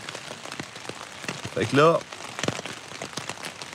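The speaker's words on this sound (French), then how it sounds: "la pluie là, sur la toile de tente." Steady rain patters on tent canvas during a hiking trip, a constant soft hiss running throughout while a person speaks over it in French.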